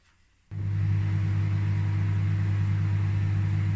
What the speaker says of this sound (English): this needs to go in the microwave for 1 minute so it gets all nice and warm